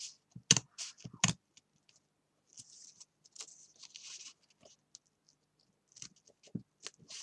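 Crisp snipping and clicking sounds of scissors cutting paper, a few sharp bursts separated by quiet pauses, close by.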